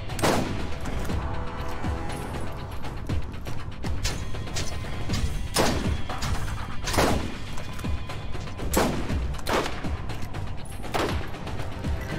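Sustained SMG fire in Borderlands rattles continuously for about twelve seconds, near and loud, punctuated by periodic heavier impacts and crashes with no talk over it.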